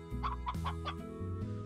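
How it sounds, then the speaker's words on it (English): Chickens cluck in the video game Slime Rancher, a quick run of a few close, distinct clucks over a steady game background tone. "The chickens invite arrays, allowing them to grow into healthy hens and roosters twice as fast."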